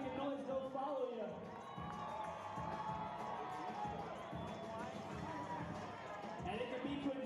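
A cheering crowd at a cheerleading championship team final fills a large arena with steady shouting and children's yells, sustained throughout without pause, while a voice talks over it.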